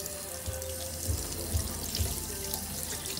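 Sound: tap water running while rinsing a dog

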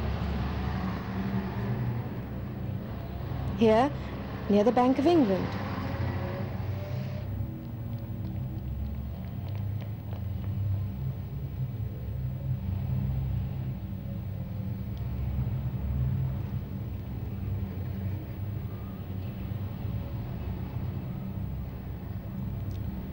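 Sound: London street traffic of lorries, cars and buses

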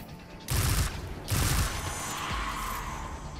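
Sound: gunfire shooting enemies in video game Destiny 2

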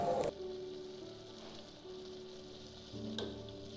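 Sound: stirring and frying mutton with chopped tomatoes

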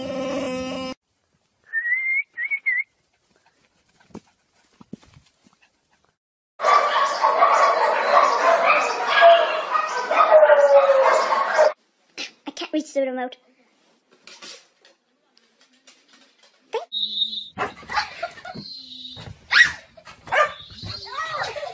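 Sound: dog making Chewbacca-like vocalizations

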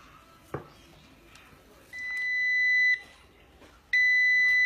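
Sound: butter machine beeping when finished

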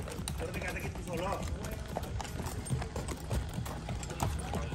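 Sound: horse hooves clip-clopping while being ridden

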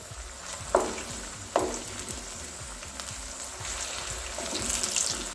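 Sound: potatoes shallow frying and sizzling in a pan

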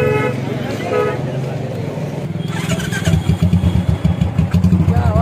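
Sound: Royal Enfield Bullet motorcycle being ridden

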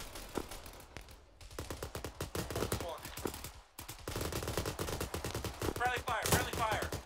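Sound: gunfire in the video game ArmA 3

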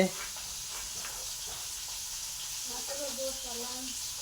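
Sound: fish frying in a pan

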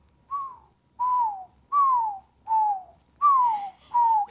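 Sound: person imitating loud whistling

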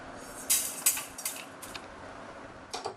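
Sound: half-roasted moong dal poured into a cooking vessel

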